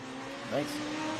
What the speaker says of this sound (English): So Randy Ross, there he is in his 1985 Chevy Monte Carlo.